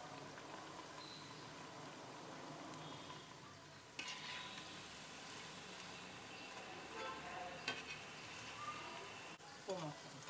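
Thavala vadai lentil fritters fry in oil over a medium flame, giving a soft, steady sizzle and crackle with a few louder pops and scrapes, fairly faint.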